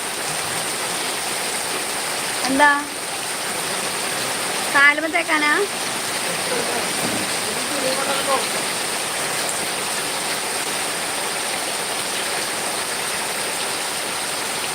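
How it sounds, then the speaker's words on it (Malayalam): Heavy rainfall keeps up a constant, even wash of noise from start to finish, with brief bits of a person talking rising over it a couple of times. "എന്താ മഴല്ലേ?"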